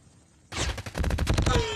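AK-47 fire in the mobile shooter Call of Duty Mobile: after a quiet start, a loud, fast automatic burst of evenly spaced shots breaks in and keeps going to the end.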